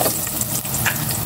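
Garlic sautéing in hot oil in a pan makes a dense, steady sizzle close up, with small crackles throughout and no voices.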